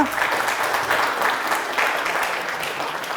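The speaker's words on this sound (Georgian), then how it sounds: "13 სწორი პასუხი, აპლოდისმენტები მას" An audience at a student book quiz show applauds a contestant, steady dense clapping from a sizeable crowd at close to moderate distance, lasting throughout with no talk over it.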